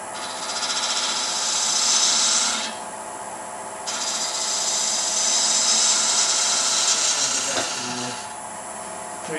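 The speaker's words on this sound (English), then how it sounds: "I'm going to switch to my 1/4 inch spindle gouge and just round that edge" Spindle gouge rounding the edge of a spinning wooden pepper mill blank on a lathe, a steady loud rasping scrape with a brief pause partway through, then cutting resumes and tapers off near the end.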